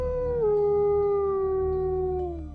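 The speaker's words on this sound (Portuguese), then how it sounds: "a ouvir aquele uivo vindo lá de fora da casa" A single long wolf howl sound effect rises and then slowly slides downward, loud and sustained with a smooth, mournful tone, heard alone with no talk.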